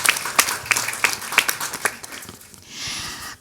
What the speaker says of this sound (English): Please give a big applause from Daniel Weiss from London.